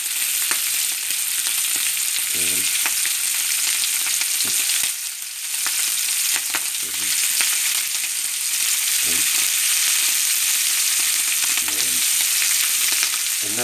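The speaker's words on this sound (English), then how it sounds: "I'm going to add half the amount of shrimps into the" Shrimps fry in a hot saucepan with a loud, continuous sizzle and crackle, broken by occasional scraping stirs and a brief dip in the hiss partway through.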